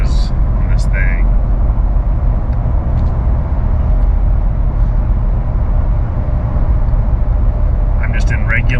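2021 Ram TRX pickup with a supercharged Hemi V8 cruising on the highway, a loud, steady engine and road drone filling the whole stretch without letup.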